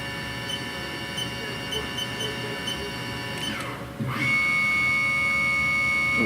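Spindle of a Haas VF3 CNC vertical machining center running with a steady tonal whine that sweeps as it changes speed, settling into a louder, higher steady pitch for the remainder.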